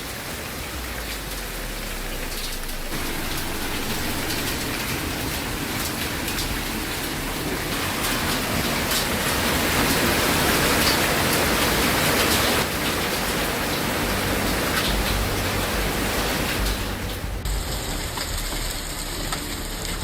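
Heavy rain and hail pour down over a flooded neighborhood, a dense, steady roar of drops hammering surfaces that swells slightly midway and continues without any voices.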